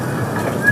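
A small theme park train at Ali Baba theme park in Bangladesh gives a brief, steady rolling rumble close by, with no voices.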